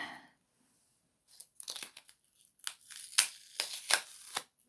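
Sticky parcel tape is pulled off the roll and torn in a run of sharp ripping bursts, close and loud after a short quiet pause, while a painting is being mounted on Bristol board.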